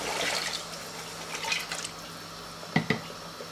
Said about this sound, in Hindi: इसमें पानी ऐड करते हैं